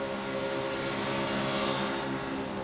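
A NASCAR Craftsman Truck Series truck at the 2008 Michigan race roars past as its driver lifts off the throttle, a dense, loud engine wash with a faint shift in pitch and no talk.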